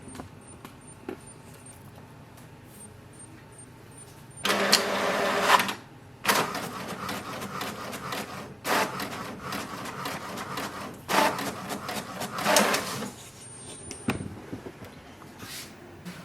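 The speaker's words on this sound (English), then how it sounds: "Select your printer and click on the print button." An HP DeskJet 4155e printer prints a document nearby, giving bursts of mechanical whirring and paper-feed rubbing separated by quieter pauses, with several louder passes as the carriage moves.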